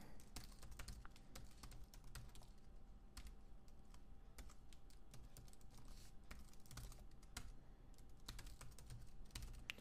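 Fast, steady clicking of a computer keyboard as an email and password are typed, dense keystrokes continuing for about ten seconds at close range with no talking.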